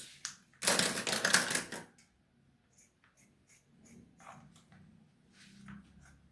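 Scissors snip through paper while a crop top pattern is cut out, a dense burst of crisp cutting near the start followed by faint scattered rustles and soft handling sounds, close up, no talk.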